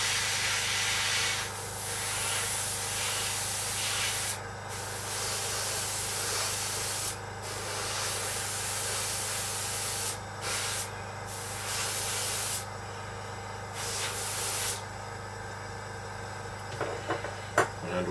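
A heavy first coat of paint sprayed onto a Seafire scale model, a steady hissing airbrush or spray can running almost continuously with a few brief pauses and a low background hum.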